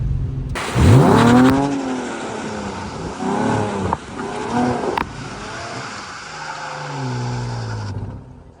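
Rear-wheel-drive swapped Audi A4 making about 220 wheel horsepower drifts on wet pavement, its engine revving and rising in pitch in loud, close surges that dip and climb again across the run, with no talk.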